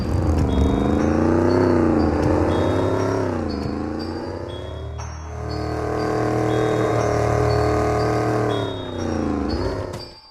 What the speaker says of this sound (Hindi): रोड अपनी गाड़ी में केक लेने के लिए चल देता है